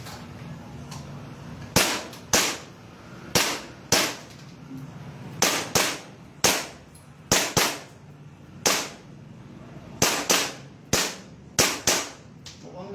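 Sharp, dry pellet gun shots fired one at a time at a target outdoors, about a dozen reports in an irregular rhythm, each loud and close with a short decay, with no talking between them.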